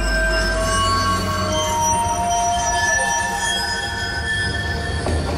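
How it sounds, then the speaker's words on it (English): A video game subway train rumbles loudly with a deep low drone and high metallic wheel squeals, steady throughout as it rolls along and slows to a stop. "As the train finally rolls to a stop in front of an unfamiliar old cemetery"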